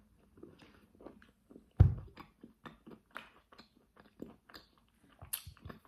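A crunchy hazelnut chocolate bar being chewed close up, giving sharp crunches and bites at irregular intervals, one loud snap near the start and softer mastication crackles after it, with no talking.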